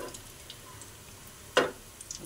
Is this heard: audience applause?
no